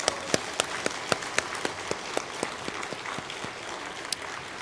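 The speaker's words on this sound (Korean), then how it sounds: "우리 격려의 박수 한번 해주시죠" A church congregation at a Sunday worship service applauds the choir, a loose, moderately loud round of claps with distinct sharp hits scattered through a soft patter, steady for several seconds.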